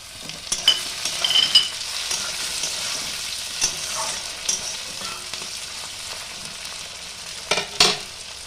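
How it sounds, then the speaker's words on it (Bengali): Onion, garlic and chopped tomato fry in a pan, a continuous close sizzle broken by several sharp scraping stirs and clinks of a utensil against the pan. "পেঁয়াজ রসুন সব হালকা করে ভাজা হয়ে গেছে, এবার আমি কুচিয়ে রাখা টমেটোটা দিয়ে দিলাম"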